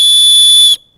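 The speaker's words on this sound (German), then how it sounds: "So hört es sich an, wenn ich mit dem Feuerstahl blase." A Nextorch MT30 whistle, blown with its fire steel seated inside, gives one loud, piercing, steady high tone held for under a second before cutting off abruptly into silence.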